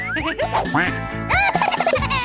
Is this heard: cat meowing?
no